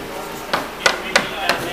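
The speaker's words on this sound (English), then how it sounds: "And there Joe is hammering something" Hammer strikes on a house being built, four sharp separate blows about a third of a second apart, fairly close, over a steady background hiss.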